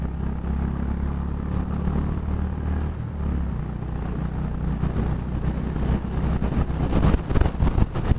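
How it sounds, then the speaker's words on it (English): Strong wind buffets the microphone while riding a heavily loaded Honda H'ness CB350 motorcycle, a constant low roar and rumble with the engine underneath, growing gustier and more clattery toward the end. "The wind is very, very strong."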